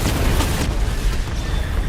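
Missile barrage from the Batmobile in Batman Arkham Knight: a dense, rumbling wash of overlapping explosions, loud and sustained for a couple of seconds with no clear gaps and no voices.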